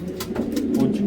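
A racing pigeon in a loft cooing, a low rolling coo close and steady throughout the brief moment, with no talk over it.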